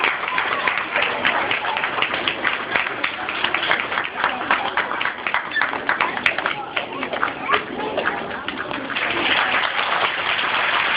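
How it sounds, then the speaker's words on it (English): An audience claps loudly and continuously after a school civil rights play, dense steady applause filling the room from start to finish, with some cheering voices mixed in. "give them another round of applause"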